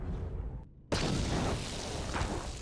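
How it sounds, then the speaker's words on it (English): A deep boom erupts in the Star Wars game KOTOR II: The Sith Lords, cutting in abruptly after a quiet gap and then rolling on as a loud, sustained rumble with no talking over it. "Boom. Explosion."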